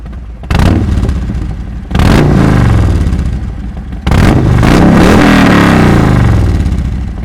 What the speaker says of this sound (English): such as recording your exhaust